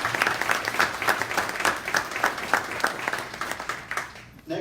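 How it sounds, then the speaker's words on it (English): An audience at an unsung heroes awards ceremony applauds an honoree, Mr. Richard Alexander, with rhythmic, evenly pulsed clapping that fades near the end. "we would like to give this applause to you"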